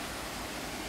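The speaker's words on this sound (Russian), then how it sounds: "Фонтанчик работает, водопад." A small fountain and waterfall at a residential complex in Alanya, Turkey, produce a steady, even rush of splashing water, a constant broadband wash with no voices.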